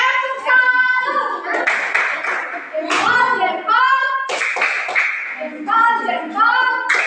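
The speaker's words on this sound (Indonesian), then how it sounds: "Sekarang kita tepuk salut dulu buat kelompok 2." A classroom of children perform a rhythmic clapping chant of praise for group 2, their sung voices leading throughout with hand claps mixed in between the chanted phrases.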